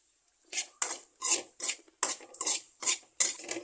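Grated coconut being stirred in hot coconut oil, with about nine sharp, close scraping strokes of a spoon against the pan and a faint fry underneath.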